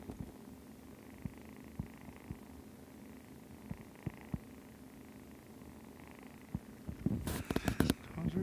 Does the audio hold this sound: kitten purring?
yes